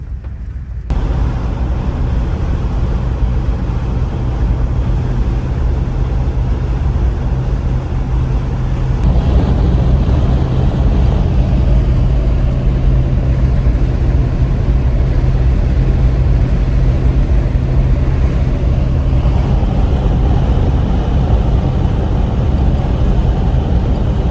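Old Mopar car with oversized tires and manual steering driving on the road, its engine running as a steady, loud, low drone heard from inside the cabin, with no talk.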